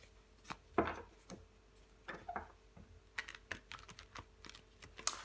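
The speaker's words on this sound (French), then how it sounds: "Je vais recouvrir des cartes." Tarot cards laid down one after another on a table during a reading, giving soft taps, slaps and brushing rustles in an irregular close-up rhythm with no talking.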